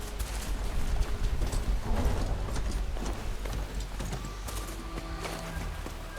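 A rideable machine horse clip-clops in Horizon Forbidden West, quick regular hoofbeats with faint mechanical clanks, moderately close over ambient game sound.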